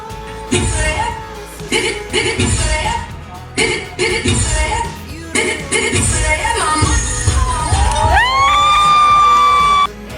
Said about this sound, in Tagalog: Sigawan ang mga audience nang tanggalin na ni Atasha ang suot niyang maskara at nagumpisa na itong humataw sumayaw.